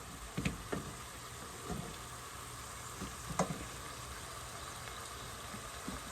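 Ground beef and onions sizzle steadily in a pan on the stove in a home kitchen. A few sharp scrapes and taps from stirring cut through the continuous frying hiss, and no one is talking.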